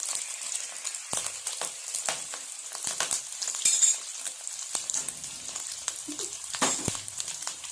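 A Thai omelette with chakram leaves frying in hot oil, with continuous close sizzling, sharp spitting crackles and splatters, and occasional utensil clinks as the egg is stirred.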